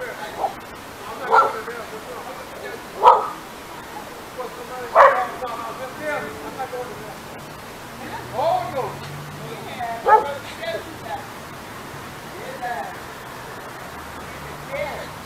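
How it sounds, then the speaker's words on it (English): A dog outdoors gives a series of sharp, moderately close barks and yips, spaced irregularly a second or two apart, with quieter whimpers between them and faint voices in the background. "The dang dog barking though."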